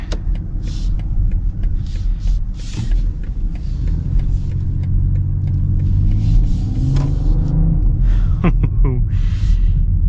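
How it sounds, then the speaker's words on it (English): A BMW inline-six engine in a 2025 BMW X3 M Sport rumbles steadily, then its pitch climbs as it accelerates, heard from inside the car with a few clicks and rattles. "I love BMW's inline six. It's just such a good engine."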